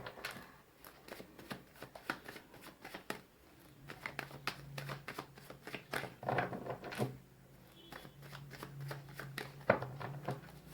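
Tarot cards being shuffled by hand, a quiet run of rapid papery riffles and soft slaps repeating in uneven bursts throughout, with no talking.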